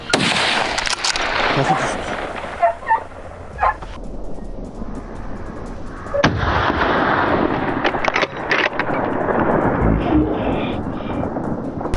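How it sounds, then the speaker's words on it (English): A gun fires at a charging wild boar out in open wilderness, a sharp shot cracking through a busy outdoor scene where dogs bark and other sharp bangs sound nearby. "The gunshot roared, dust filled the air, and the beast collapsed"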